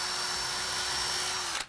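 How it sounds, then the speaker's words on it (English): Power drill boring a clearance hole through an MDF panel, a steady close whirring grind lasting over a second and a half before cutting off abruptly. "I'll drill the clearance hole in"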